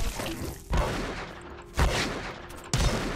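Shotgun fire in GRAV, three heavy booming blasts spaced roughly a second apart, each with a short decaying tail, loud and close over low background noise.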